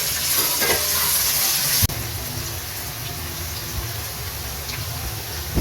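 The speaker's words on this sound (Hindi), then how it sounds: "अच्छे से फ्राई करते हैं।" Okra (bhindi) frying in hot oil gives a steady close sizzle and hiss, with a sharp crackle near the start before settling into an even bubbling fry.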